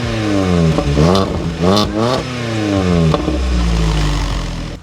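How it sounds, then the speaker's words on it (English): A Vauxhall Corsa C track car's exhaust revs hard several times in quick bursts, with crackling backfire pops and bangs between revs before settling into a loud idle. "That's got like some backfire on it and some like proper banginess."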